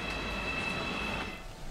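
An RE 19 regional express train on the Sonneberg–Coburg–Bamberg line pulls into Erlangen station, giving a steady, close rumble of carriages and wheels with a thin high whine running through it.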